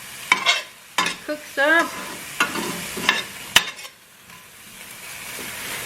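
Fettuccine being stirred in a pan over medium-low heat, with scraping stir strokes and a soft sizzle in short bursts, and a voice speaking briefly between them.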